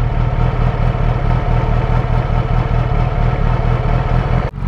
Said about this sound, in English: So as you guys can see, the idling is very unstable.